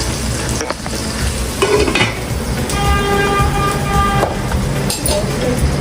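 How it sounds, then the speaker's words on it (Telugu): Fish masala stirred in a pan after half a spoon of turmeric goes in for a sorrel fish pulusu, a steady close sizzle of frying with brief scraping strokes, plus a faint tonal beep partway through. "కొద్దిగా అది వేసినాక కొంచెం కలుపుకోండి."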